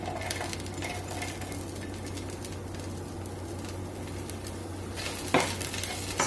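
Garlic sizzles in two tablespoons of hot olive oil, a low steady frying hiss with occasional light stirring scrapes and a louder clatter of the pan near the end.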